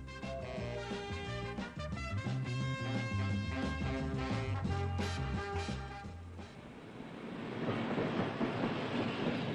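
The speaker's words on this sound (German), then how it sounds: "Auf diesem Bahnhof halten alle Züge," A train passes at a border railway station in East Germany, its rolling wheels and clattering cars running continuously and swelling into a broad roar toward the end, with music playing over the first part.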